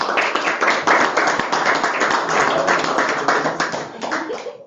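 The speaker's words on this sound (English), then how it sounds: "Let's give her another applause." Brief burst of applause at a school board meeting, a small group clapping close by in quick uneven rhythm for a few seconds and tapering off at the end.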